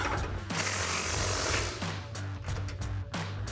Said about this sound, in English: we're gonna switch to our 21mm socket and our 27mm wrench and go ahead and tighten down our control arm